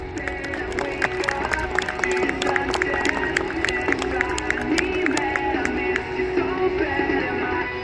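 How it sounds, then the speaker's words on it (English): A crowd at an outdoor air show applauds and cheers for the volunteers, with steady clapping and scattered whoops continuing for several seconds at close range. "so a big round of applause for the volunteers"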